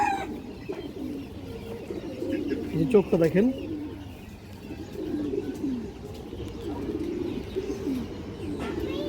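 Female pigeons coo in several soft, throaty bursts while someone talks over them nearby.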